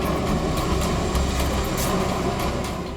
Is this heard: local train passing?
yes